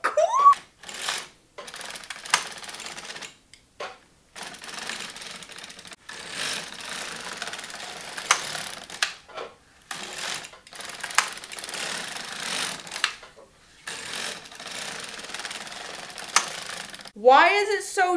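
Silver Reed LK 150 knitting machine running its carriage in repeated passes, giving broadband mechanical clacking and whirring in bursts with brief pauses between strokes, with a person talking excitedly at times.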